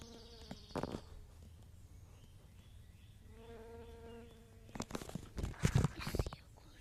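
Bee buzzing while collecting pollen outdoors, a faint steady hum rising in the middle, with rustling and brief handling noises and a soft voice nearby.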